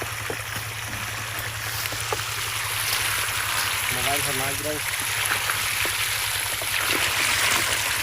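Water flowing through a pipe into a paddy field during rice-planting preparation, a steady rushing hiss throughout, with a person talking over it.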